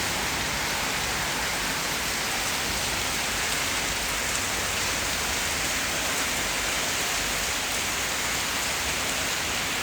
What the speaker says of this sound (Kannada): ಹೊರಗಡೆ ಸಿಕ್ಕಾಪಟ್ಟೆನೆ ಮಳೆ